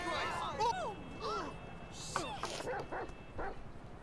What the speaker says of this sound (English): I think Chop left because he's barking.